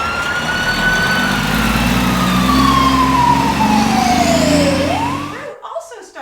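A fire truck siren wails loud and close, sweeping slowly downward over about five seconds over rumbling engine noise, then cutting off abruptly into brief quiet and faint background sounds.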